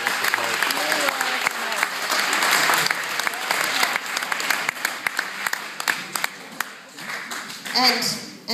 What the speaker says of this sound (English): stand up so we can give you all a round of applause